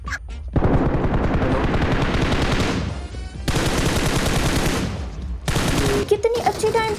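Rapid automatic gunfire and blasts from a shooting video game, loud and close, come in long sustained bursts separated by brief pauses, with a few scattered shots at the end.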